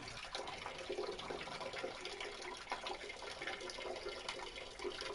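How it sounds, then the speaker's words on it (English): Urine stream splashing steadily into a toilet bowl, a continuous close watery trickle with no talk over it. "Please tell me that you're peeing into a toilet."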